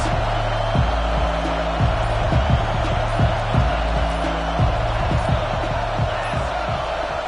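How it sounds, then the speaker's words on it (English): A basketball arena crowd roars steadily for the defense, a loud sustained cheer that swells and holds throughout, with sharp thumping bounces and hits scattered through the din. "How about this crowd rattling the rafters and trying to help their defense?"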